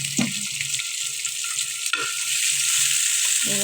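Chopped onions fry in a little oil in a wok, a loud close sizzle broken by a few scraping stirs of the spoon against the pan, with no talking.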